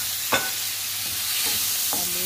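Tomatoes tossed into a hot frying pan for tuna dish, giving a steady close sizzle with a few scraping stirs of the spoon across the pan, no talking.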